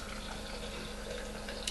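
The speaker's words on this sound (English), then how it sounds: "So let's fill it with water" Hot water pours steadily into a Tea Traveler brewer, giving a soft, continuous liquid trickle that stays even and fairly quiet throughout the short moment.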